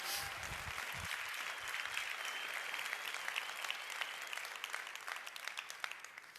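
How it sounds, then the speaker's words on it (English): Audience applause after a motivational network marketing talk, dense steady clapping from a crowd that holds for several seconds and then begins to taper at the end. "Give him a round of applause, will you?"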